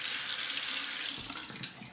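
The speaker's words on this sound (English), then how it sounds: "Temper the razor under hot or cold water, whichever you prefer." Hot or cold tap water runs into a sink to temper a Merkur Futur safety razor, a steady close hiss that thins and fades toward the end.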